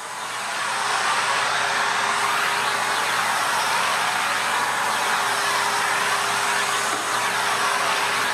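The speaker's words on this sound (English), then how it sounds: "The vacuum is great." Vacuum cleaner running close by, a steady broadband whooshing roar with a faint motor hum, rising within the first second and then holding constant with no talk.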